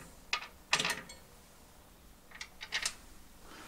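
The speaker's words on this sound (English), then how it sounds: "So now I'll finish up with the screws, locking this down." Screws being tightened by hand to lock down a Stillpoints ESS audio rack shelf, heard as two short clusters of close metallic ticks and scrapes with quiet gaps between.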